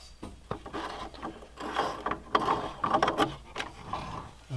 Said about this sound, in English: we need to disconnect the power to it basically to get this thing off, and then we'll take it apart